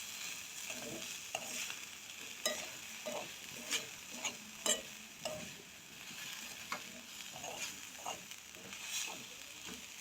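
Beetroot burfi mixture with grated coconut is stirred and fried in ghee, giving a quiet, steady sizzle broken by soft scrapes of the spoon in an irregular rhythm.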